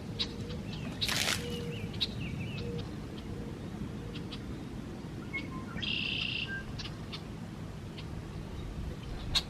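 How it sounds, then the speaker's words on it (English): A bird calling from a catalpa tree beside a backyard pond, its brief chirps and a short trill standing out faintly over steady outdoor background noise. "we have a bird we've nicknamed Bruce up there."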